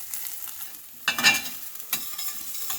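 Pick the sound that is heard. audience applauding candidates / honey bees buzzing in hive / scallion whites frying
scallion whites frying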